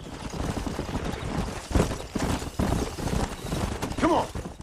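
Busy, rumbling hoofbeats of galloping horses in Red Dead Redemption, with scattered clatter and a brief whinny-like sound near the end.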